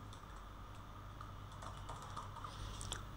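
Text being typed on a computer keyboard, a quiet run of irregular clicking keystrokes over a low steady hum, close and fairly soft, no speech.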